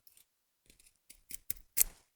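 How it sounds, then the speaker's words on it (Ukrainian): A Peltonen M95 Ranger puukko knife carves into wood in a few short, crisp scraping cuts that grow louder, the last one the strongest, with no talk. "Він неймовірно круто вгризається в дерево, але він там не застрягає"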